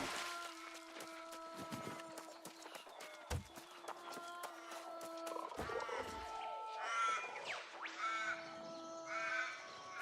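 A harsh, crow-like bird in the video game New World caws repeatedly and hoarsely over a quiet outdoor ambience and footsteps.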